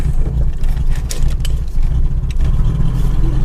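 A 1980 Honda Accord engine fitted with a Weber carburettor runs steadily and close by on its first drive, a continuous low rumble with slight rises as the throttle is pressed, with no talking over it.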